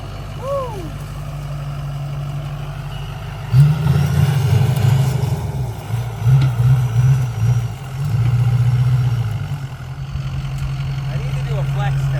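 Budget bogger off-road vehicle idling, then revving hard in uneven bursts as it climbs over a Connex shipping container box, close engine roar easing back to a steady idle, with a brief whoop of voice early on.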